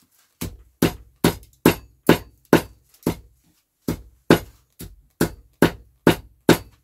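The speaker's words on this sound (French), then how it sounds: "je préfère donner quelques petits coups au marteau" A hammer taps scrap copper to knock off its coating, giving about fourteen sharp, ringing metallic strikes in a steady rhythm, close and loud, with one short pause midway and no voices.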